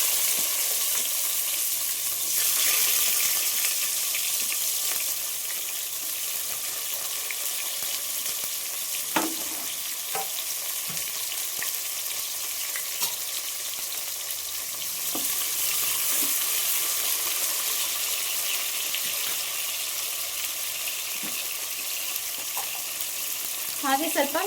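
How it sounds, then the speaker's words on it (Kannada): Onions frying in a pan for biryani, a steady crackling sizzle with occasional stirring clinks and scrapes over a soft continuous hiss. "ಈರುಳ್ಳಿ ಸ್ವಲ್ಪ ಚೆನ್ನಾಗಿ ಫ್ರೈ ಆಗಲಿ ಅಂತ"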